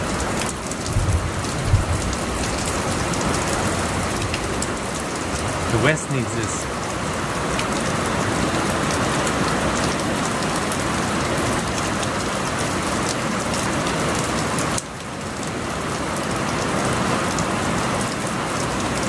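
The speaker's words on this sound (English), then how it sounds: "It's been raining since Saturday night." Heavy, steady rain pours onto surfaces during a prolonged thunderstorm at a campground, a dense constant wash throughout, with a brief low rumble and a voice speaking partway through.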